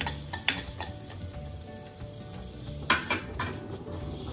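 Ginger and green chillies fried with asafoetida in a pan for a bottle gourd kootu, with soft sizzling under clinks and scrapes of a utensil against the pan, several sharper knocks standing out.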